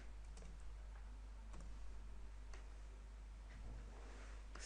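Keys on a computer keyboard are tapped in short, scattered bursts, faint and close over a low steady hum.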